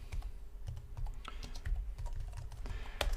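Someone types a Java version command on a computer keyboard at a terminal, with quick, light, irregular key clicks close up and no talking.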